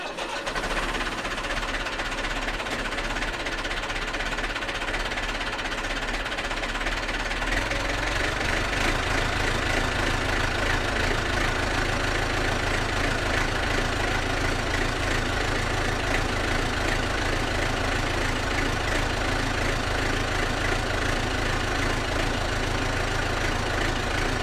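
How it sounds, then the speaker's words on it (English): A vintage tractor engine starts up and settles into a steady, chugging idle, loud and close, with a deeper rhythmic knock after the first few seconds and no talking. "start the tractor for a minute or two, just to run it, make sure there's no air locks"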